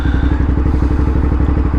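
A Suzuki SV650S motorcycle engine pulses at high revs with a rapid, even, throbbing beat, loud and close, alone without talk.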